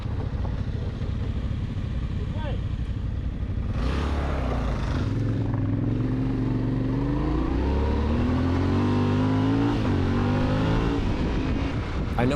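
A Gen 3 Kawasaki KLR motorcycle engine revs up as the throttle opens on a dirt trail, its rising harmonic drone loud and close, pulling steadily over several seconds amid wind noise.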